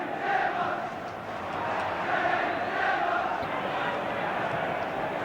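A football crowd at Anfield's Kop roars at a 1982 Liverpool versus Ipswich Town match, a broad sustained din that swells and dips. A commentator speaks over it.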